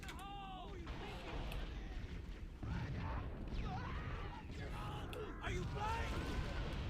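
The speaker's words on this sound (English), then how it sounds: "There's still explosions happening." Booms and bursts of explosions from Halo: Combat Evolved gameplay, played on Legendary difficulty, rumble continuously under loud game dialogue and chatter, with no clearly separated individual blasts.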